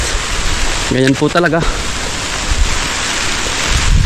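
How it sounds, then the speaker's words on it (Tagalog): Heavy rain pours as a steady, loud wash of noise near a vegetable garden with bitter melon, cucumber and eggplant. Someone speaks briefly partway through, and the rain keeps drumming without a break. "Lakas ng ulan na naman."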